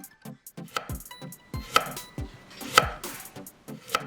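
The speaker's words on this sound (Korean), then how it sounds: "양파 반 개는 이렇게 썬다" A knife cuts half an onion on a cutting board, with a series of crisp, close chopping taps at an uneven rhythm and no talk.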